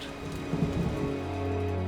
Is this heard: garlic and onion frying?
no